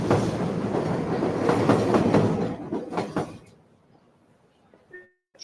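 Train at a station in a played clip, rolling carriages rattle with rhythmic clickety-clack beats, then fade away to near silence, leaving a brief faint tone near the end.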